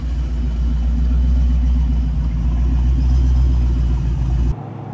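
A Vortech supercharged Fox Body car drives along with a steady, loud low engine rumble and road noise, cutting off abruptly near the end.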